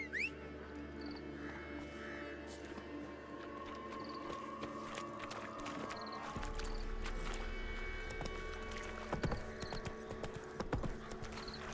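Geralt's horse Roach clip-clops along in The Witcher 3, hooves beating a steady, moderately close walking rhythm over quiet ambient hum, with a few sharper knocks near the end.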